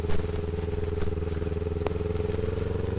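Kawasaki Ninja 400 motorcycle on the road, its engine droning steadily and loudly throughout, heard from the rider's position with faint wind and road clatter.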